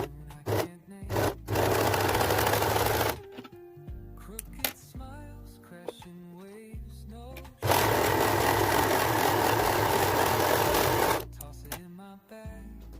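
A sewing machine stitches a business skirt in two long, loud, steady bursts, separated by quieter pauses full of handling sounds and short stops and starts.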